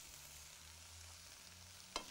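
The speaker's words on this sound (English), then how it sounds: "by stirring it through so that you've got it nicely blended with the vegetables" Couscous being stirred through vegetables in a pan, a faint steady sizzle with soft scraping, ending in two sharper utensil knocks.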